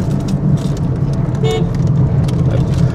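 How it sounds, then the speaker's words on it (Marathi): Car horn honking on a rough, busy road between Lanja and Sangameshwar, heard from a moving vehicle: short toots cut through a constant hum of engine and traffic noise. "टर्न आला हॉर्न द्या."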